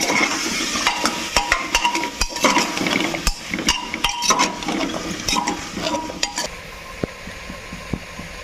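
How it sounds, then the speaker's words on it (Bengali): Potatoes frying in oil in a kadai for a lightly spiced aloo curry, with a steady sizzle and repeated scraping, clinking stirs of a spoon against the pan, close up with no talking. "এবার আলুগুলো দিয়েও ভালো করে ভেজে নেব।"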